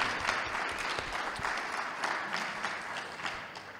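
Audience applause after a ministry training program graduation, a dense, steady wash of many hands clapping throughout at moderate volume with no voices over it.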